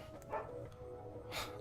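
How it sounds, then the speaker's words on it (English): Indoors, a dog gives two sharp barks about a second apart at moderate distance, with quiet room sound between them. "That's my dog barking, of course, almost on cue."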